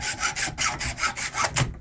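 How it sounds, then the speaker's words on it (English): A small hacksaw blade cuts through nails embedded in wood in quick back-and-forth strokes, about seven rasping passes in a steady rhythm that end abruptly, with no talking. "so with this little blade here, as I'm cutting here, they'll come out real easy"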